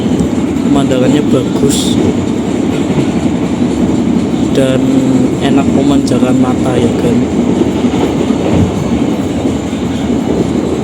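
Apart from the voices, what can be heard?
Java Priority passenger train running on rails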